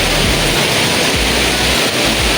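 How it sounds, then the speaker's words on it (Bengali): Heavy rain pours down in Puran Dhaka, a loud, unbroken roar of falling water that fills the whole scene with no voices. "মানে মারাত্মক বৃষ্টি"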